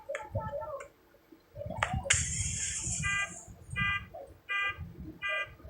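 A parked car's alarm sounds in a garage after a stone strikes the car, giving repeated electronic pulsed beeps in bursts over a background of rumbling music-like noise.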